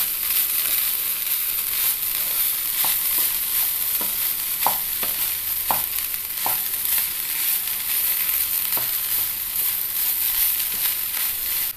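Cooked green gram being stirred into a sizzling banana flower thoran in a pan, a steady loud frying hiss with scattered scraping and tapping of the spoon, close and continuous.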